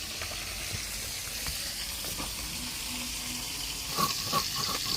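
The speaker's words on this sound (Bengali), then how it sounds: "মাছ ভাজা হতে হতে" Steady sizzling of bata fish frying in oil, with a few soft clinks and stirring sounds breaking through near the end.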